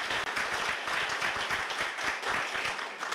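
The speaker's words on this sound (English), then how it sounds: "Let's have one last round of applause for all three of these influential honorees." A ceremony audience claps steadily for three distinguished achievement award honorees, a dense, even wash of applause lasting the whole stretch without a break.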